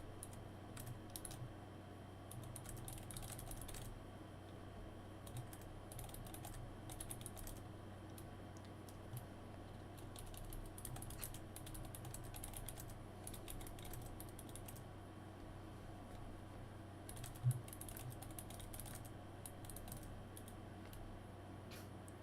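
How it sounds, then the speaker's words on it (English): Someone types on a computer keyboard with quiet, fast, irregular clicks in bursts that go on for over twenty seconds, while a faint low hum runs underneath. "I'm typing in deck chat real quick."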